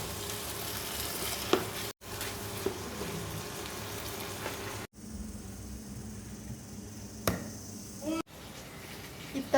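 Ingredients frying in a pan until reddish, made to go with iftar snacks, a continuous soft sizzle with occasional stirring scrapes, cut by a few abrupt breaks.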